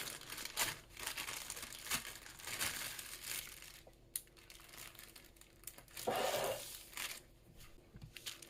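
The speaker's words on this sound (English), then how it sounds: "I have cuffed a Ziploc bag, put it over a cup, and I put the filling in there" A cuffed Ziploc bag draped over a cup crinkles and rustles in bursts as deviled egg filling goes in, soft and close with irregular plastic crackles and a louder crumple near the end, no talking.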